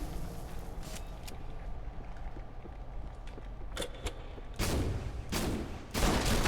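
Gunfire from a weapon in the Halo 2 Uncut mod, a video game: several sharp bursts at fairly even volume, the heaviest shots coming in the last two seconds over a steady background hum.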